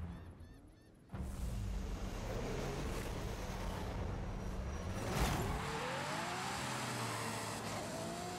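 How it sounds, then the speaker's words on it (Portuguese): A Ferrari engine in Forza Horizon 5 surges in suddenly and holds a loud, steady roar, with rising revs toward the end and no talking. "Ferrarona vai cantar alto agora."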